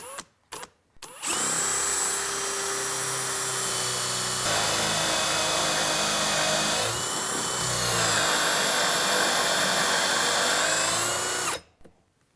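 Power drill boring a hinge hole through a clamped cabinet door with a Kreg hinge jig, a loud steady high whine for about ten seconds that shifts pitch partway through before stopping abruptly.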